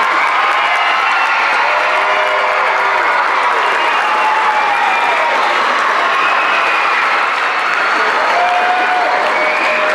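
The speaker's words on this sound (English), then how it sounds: "let's give them a round of applause and thank them for their work." Sustained applause from a large audience at a choral showcase fills the clip, loud and continuous, with scattered cheers rising above the clapping.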